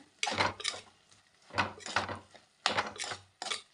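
Spatula scraping and clinking in a pan of ivy gourd fry, a few short bursts of stirring separated by quiet pauses, close and fairly soft with no talk.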